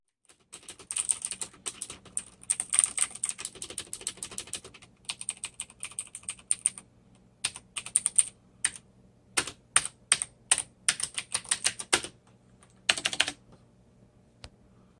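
Fast bursts of clicky keystrokes come from a Cooler Master MK750 keyboard with Cherry MX Blue switches, close and crisp, in runs separated by short pauses, with no talking.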